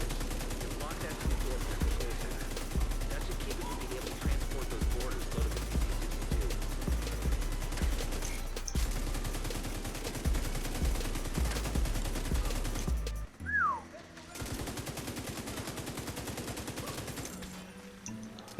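Pestilence LMG in The Division 2 fires sustained bursts over about thirteen seconds, dense and loud in a busy game mix, then a short quieter gap before more combat noise; some talk may sit underneath.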